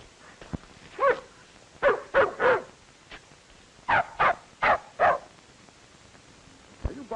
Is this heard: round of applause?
no